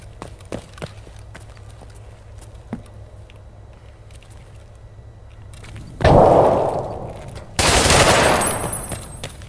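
Gunfire in Escape from Tarkov, sparse footsteps and small clicks give way to two loud, close gunshot blasts with ringing tails near the end.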